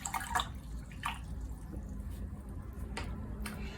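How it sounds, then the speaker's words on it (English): A watercolor paintbrush swishes and drips in a small container of water, with soft close splashes and trickles, quiet and intermittent. "So first I'm going to wash out my brush."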